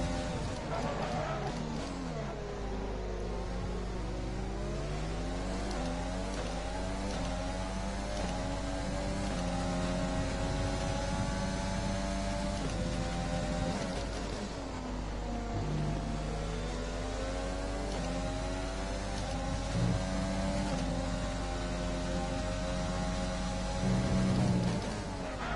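An F1 car engine in F1 2020 at Bahrain screams through repeated rising and falling revs as gears shift, a loud continuous whine with a low steady drone underneath and a voice talking over it at times.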